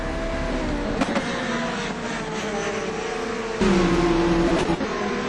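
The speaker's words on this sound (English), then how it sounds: "Big Austin just landed himself in the gravel, so he's going to be a while getting out of there." Race cars in a GRC Trophy circuit race roar past continuously, a steady loud engine drone with pitch shifts as cars pass and a louder car surging in near the end.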